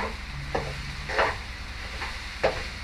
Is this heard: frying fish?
yes